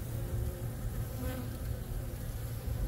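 A dense, steady hum of honeybees buzzing close by over a brood frame pulled from a hive, a continuous swarm drone with no talk.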